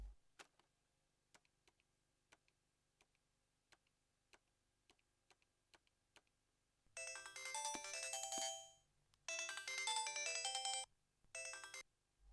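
A phone ringtone breaks out in loud, bright bursts of melody after a stretch of quiet ticking. It rings in three runs separated by short gaps, with no talking.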